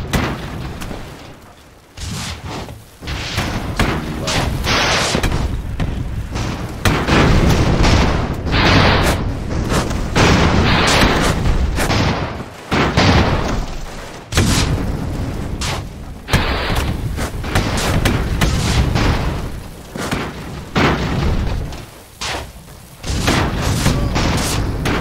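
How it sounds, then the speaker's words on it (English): Rifle volleys and rocket fire in the airship battle game Airships: Conquer the Skies, with loud, dense, overlapping booms and cracking bursts that hammer on almost continuously, dropping only in a few brief pauses. "Just going to hope we can do some damage here with our rifles. These rockets are going to..."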